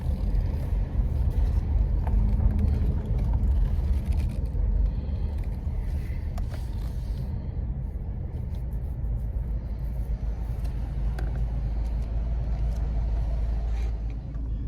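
A car drives slowly into a crowded auction lot and pulls up behind another vehicle, a steady low engine and road rumble heard close and continuous with only faint background sounds.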